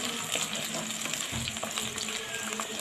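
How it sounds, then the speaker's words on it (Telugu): Curry leaves and onions fry in oil in a clay pot, giving a dense, steady crackling sizzle at close range with light stirring underneath. "ఆయిల్ వేస్తున్నాను మట్టి పాత్రలో. కరివేపాకు, ఉల్లిపాయలు వేసేసాను. ఇవి కొంచెం వేపుకోవాలండి దూరగా."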